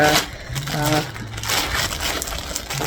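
A handbag being stuffed into a plastic bag, producing close, continuous crinkling and rustling of plastic across the whole moment, with faint voiced sounds mixed in.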